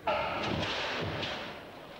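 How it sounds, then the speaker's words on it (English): A stunt explosion on a New York street for the Die Hard 3 film: a single sudden blast that fades into a rumbling decay, heard faint and distant. "This explosion, filmed on the streets of New York, is only one of the amazing stunts as Willis and reluctant partner Jackson try"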